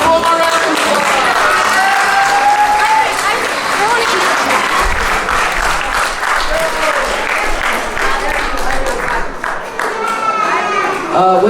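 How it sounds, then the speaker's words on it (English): Loud applause fills an elementary school awards ceremony for visual and performing arts winners, brisk clapping mixed with children's voices and chatter, sustained for about eleven seconds. "Give one more round of applause."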